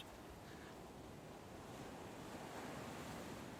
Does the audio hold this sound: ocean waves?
yes